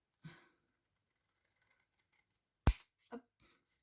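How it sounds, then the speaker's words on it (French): Large scissors cut through paper card, giving one sharp loud snip followed by a couple of softer trailing cuts, close up in a quiet room. "Moi, je vais utiliser mon gros ciseau. Et je viens tailler"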